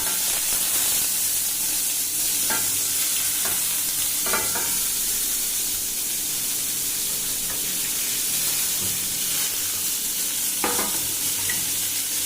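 Onions and mustard seeds fry together in oil for karuvadu thokku, a dense, steady sizzle close by with a few scattered spoon clicks and pops.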